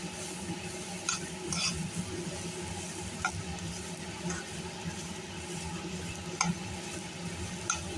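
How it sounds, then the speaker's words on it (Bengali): Rice and lentils fry in ghee with raisins and dried chilli for a birthday offering, giving a steady low sizzle with occasional scraping and clinks of a spoon stirring in the pan, close and moderately quiet. "প্রথমে ঘি দিয়ে চাল ডালটা ভালো করে ভেজে নেব, সাথে দিয়ে দিয়েছি কিশমিশ, শুকনো লঙ্কা।"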